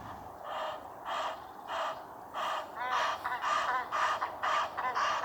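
Egyptian geese honk in a rapid series of harsh, wheezy calls on a frosty winter morning, loud and close, growing more insistent toward the end with no voices present.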